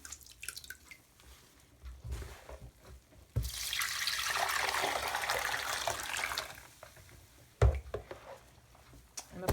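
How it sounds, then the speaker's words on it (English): Rinsed human hair, freshly cleared of dye, is wrung out by hand, letting go a steady burst of dripping and splashing water that runs for a few seconds between quieter drips and small bumps, with no talking. "I'm just going to wring some of the water out."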